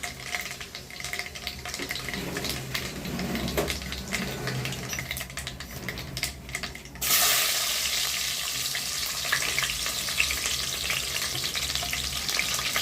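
Garlic frying in oil for a shallot and tomato pickle gives a continuous crackling sizzle with stirring scrapes, growing louder and brighter partway through as the frying intensifies; no one speaks.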